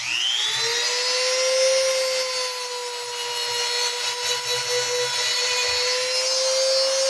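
A small 120 grit drum wheel sands a vintage Craftsman fender body hammer, giving a steady high whine with a grinding hiss, close and continuous without a break.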